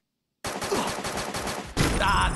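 Gunfire in the mobile battle-royale game Free Fire starts after a brief silence with rapid, rhythmic bursts of shots, then shifts into a louder, denser stretch of fire near the end.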